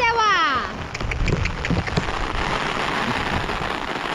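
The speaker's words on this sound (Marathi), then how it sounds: "पाऊस आला," Rain begins falling outdoors on a hillside plateau trip, a steady patter of drops on surfaces, with a rising whistle-like tone at the start and voices talking over it.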